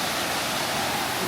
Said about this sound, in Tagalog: Yan na yung falls.